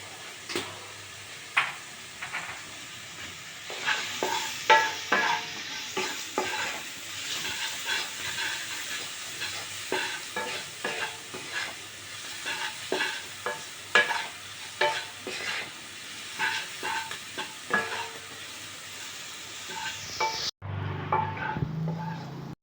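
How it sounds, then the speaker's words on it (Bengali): Chopped vegetables and potatoes seasoned with salt and turmeric frying in a pan, a steady hiss under frequent scraping stirs and spoon knocks for about twenty seconds, ending with a brief thud and rustle, nearby with no talking. "দেখুন সবজিগুলো ভাজা হয়ে গেছে আলুটাও নরম হয়ে গেছে"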